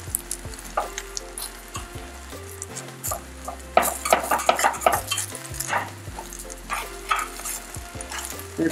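Eggs fry in a pan in a home kitchen, a steady sizzle running under intermittent clinks and scrapes of a utensil against the pan. The sounds come close and fairly loud, with no one talking.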